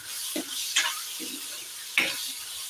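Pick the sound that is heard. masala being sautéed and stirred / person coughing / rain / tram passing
masala being sautéed and stirred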